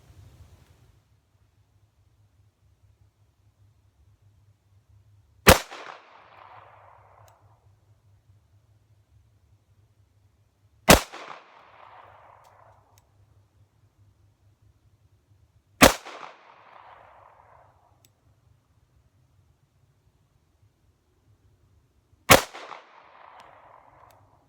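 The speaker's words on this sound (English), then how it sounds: "I'm just going to do 5 shots into the head of the target" Four sharp, loud Remington 1911R1 pistol shots fired at a target, spaced about five seconds apart, each followed by a short echoing decay over faint low background rumble.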